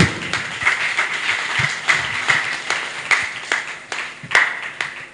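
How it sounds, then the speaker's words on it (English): Applause at a youth leadership training session, a modest round of clapping from the seated participants, moderately loud and sustained with irregular sharper claps standing out. "Give success another round of applause."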